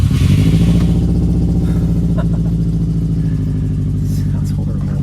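A 2003 Subaru WRX engine fires up and runs rough, a loud, steady low rumble with uneven pulsing right after the start, close by, with speech underneath.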